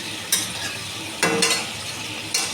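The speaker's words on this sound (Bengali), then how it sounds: "4-5টা গোলমরিচ, 2টো লবঙ্গ। এটা 10 সেকেন্ড মতো একটুখানি ভেজে নেব।" Black peppercorns and cloves frying briefly in a pan over a medium flame: a steady hiss broken by three sharp scraping stirs of a spatula, close and clear.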